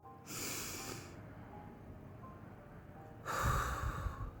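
Two deep, close breaths, one near the start and one near the end, each a loud rushing draw of air separated by a quiet pause.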